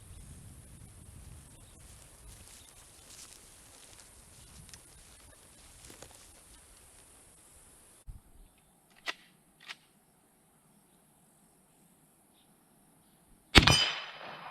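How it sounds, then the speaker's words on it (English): Colt Lightning deluxe medium-frame rifle in .44-40 fired outdoors: a few sharp shots separated by quiet gaps, one loud blast near the end, over faint background hiss. "she wanted to take a few shots through it too,"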